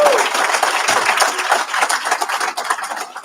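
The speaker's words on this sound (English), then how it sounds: "Can we give him a big, gigantic round of applause?" A graduation ceremony audience claps in a steady wash of applause that holds loud for several seconds, then thins a little toward the end.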